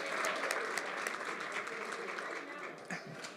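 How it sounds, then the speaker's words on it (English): Audience applause at a sports culture keynote, steady dense clapping from a large crowd throughout, moderately distant and fading slightly toward the end. "give yourselves a round of applause"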